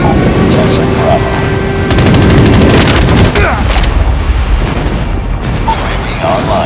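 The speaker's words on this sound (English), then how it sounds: "Enemy airstrike incoming." An enemy airstrike in the COD Mobile shooter game: loud, heavy explosions and bursts of gunfire rumble almost continuously, with voice callouts mixed in.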